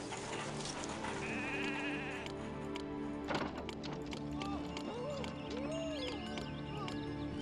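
Goats in the game Zeus: Master of Olympus bleat repeatedly in short wavering calls over a steady bed of game music and ambience, with a few clicking interface sounds.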